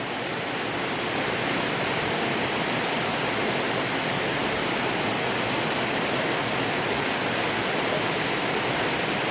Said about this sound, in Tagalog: Ayan po ang tunog ng ulan dito.